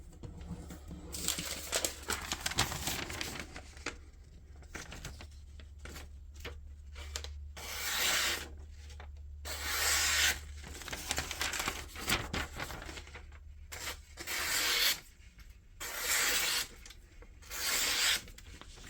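Miguron Moyarl folding knife with a drop-point, flat-ground 3.2 mm blade making repeated cuts, heard as faint, close rasping strokes in irregular bursts.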